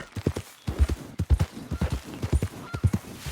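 Horses in Red Dead Redemption 2 move across open terrain, their hooves making a quick, rhythmic clip-clop at moderate volume, with a faint whinny in the mix.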